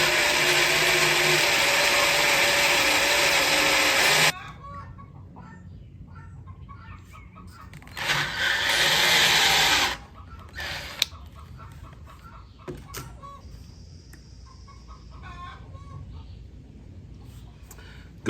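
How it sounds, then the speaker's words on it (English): A drill bit grinds slowly through thick, oiled steel for a few seconds, pauses, then runs again in a shorter burst, with quiet clatter and faint clucking between. "We want to drill it slowly."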